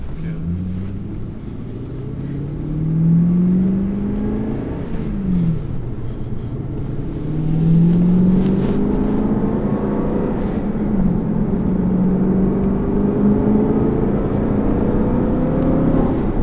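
Aston Martin V8 Vantage Roadster with a 4.7 V8 and manual gearbox driving along, its engine rumbling steadily and rising in pitch through several gears, with gentle acceleration and shifts in a continuous drone.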